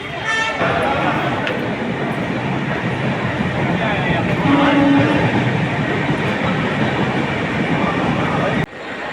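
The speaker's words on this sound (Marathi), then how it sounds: "आता आम्ही बायकळा रेल्वे स्टेशनला आलो आहे डोंबिवलीला जायचं आहे" Local train at Byculla railway station in Mumbai, a steady dense rumble of rolling wheels and platform crowd noise, loud and continuous with voices talking through it.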